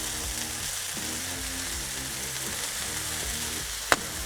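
Smashburger patties and onions sizzle steadily on a Blackstone griddle, a close, continuous frying hiss with one sharp scrape near the end.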